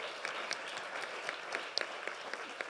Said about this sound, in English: Let's give a giant round of applause to these ladies here.